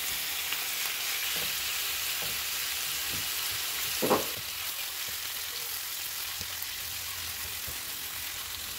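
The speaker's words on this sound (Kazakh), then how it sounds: "Ең алдымен етімізді қызып тұрған майда қуырып аламыз." Meat frying in hot oil, a steady close crackling sizzle throughout with a brief louder spatter midway, no talking.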